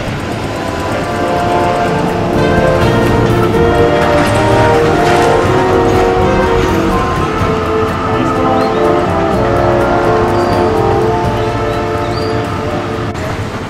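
A Melbourne Route 112 tram bound for West Preston crossing Spring Street, a loud, steady rolling rumble with wheel and rail noise that holds for the whole stretch, close by and without talk.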